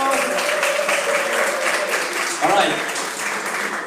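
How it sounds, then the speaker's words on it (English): Audience applause at a live tech panel discussion, a steady wash of clapping throughout, fairly loud, with someone speaking over it briefly. "please give him a big round of applause"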